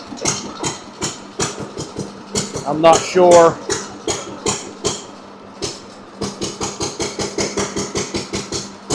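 An old Fairbanks Morse engine drives a belt-run buzz saw, putting out a steady train of sharp, close exhaust beats at an even rhythm. Briefly, voices talk midway while the saw's whine rises and falls.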